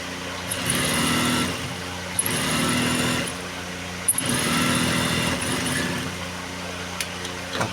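A sewing machine stitches the small front panels of palazzo trousers in three close, steady whirring runs of a second or more each, separated by brief pauses and sharp clicks, with no talk.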